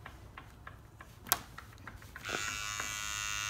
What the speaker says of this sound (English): You can take the clipper even out behind the ear like this.